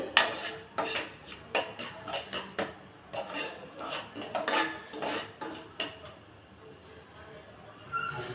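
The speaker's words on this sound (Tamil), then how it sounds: "ஒரு ரெண்டு நிமிஷம் நல்லா ரவையை நல்லா வறுத்து விட்டுக்கணும் வாசனை வர அளவுக்கு" Semolina (rava) being dry-roasted in a pan while a spoon stirs it, making repeated scraping and clinking strokes against the metal in an irregular rhythm, close and fairly quiet, with no voice over it.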